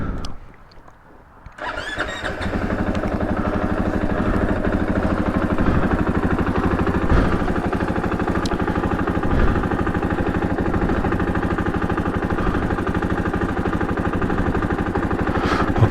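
A 2023 KTM 500 EXC-F dirt bike engine catches after a quiet moment, then settles into a steady, loud, close idle with a rapid even putter for the rest of the clip.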